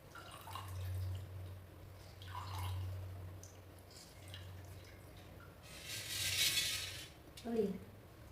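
Water drips and trickles from a cloth of freshly pressed homemade paneer, with a steady low hum underneath and a louder splashing rush near the end.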